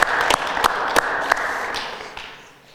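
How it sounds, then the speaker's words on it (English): An audience in the Edwards Interfaith Chapel applauds for the evening's venue hosts, sustaining an even patter of clapping with a few sharp claps before slowly tapering off. "Would you please give those folks a round of applause?"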